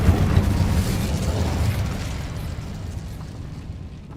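The Incendio fire spell in Hogwarts Legacy bursts out as a loud, full roaring whoosh that slowly fades over a few seconds.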